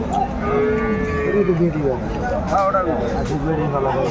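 A cow with her calf lowing at the Aftabganj cattle market: several drawn-out moos, close and loud, over a steady hum of market chatter and voices.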